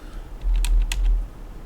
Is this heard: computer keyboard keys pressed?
yes